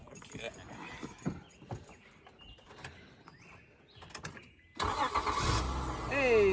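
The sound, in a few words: 2001 Honda Accord V6 engine starting after starter replacement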